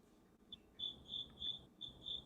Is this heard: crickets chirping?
yes